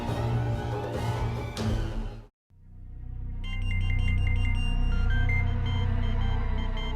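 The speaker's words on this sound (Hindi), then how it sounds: "आफ्ताब का ही फोन होगा" A ringing tone pulses in a repeating pattern after a brief silence, preceded by a loud noisy stretch; no one speaks.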